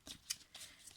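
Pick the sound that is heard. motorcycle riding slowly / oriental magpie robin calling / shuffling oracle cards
shuffling oracle cards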